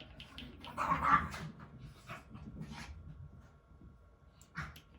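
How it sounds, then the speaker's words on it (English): Pet dogs stirring awake indoors, with a brief cluster of whimpering yelps early on and softer scattered sounds afterward, fairly faint against background room noise. "Dogs are awake."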